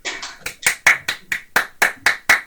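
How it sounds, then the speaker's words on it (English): A sparse golf clap at a live music jam, about ten slow, distinct hand claps at an even rhythm, close and fairly loud, with quiet gaps between each clap. "Okay, golf clap finished."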